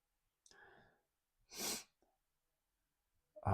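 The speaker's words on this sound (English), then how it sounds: "I can't tell if I'm going to sneeze" One short, sharp human sneeze bursts out near the middle, framed by soft breathy sounds before it and a sudden loud exhale at the very end.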